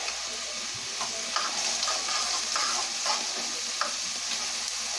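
Vegetables for chili sizzle and fry in a pot while being stirred, a steady hiss with scraping spoon strokes and occasional light knocks, close and continuous with no talking.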